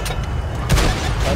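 A single heavy cannon boom from a TVP T 50/51 tank in World of Tanks on console, firing near the middle of the clip over a steady bed of engine and battle noise.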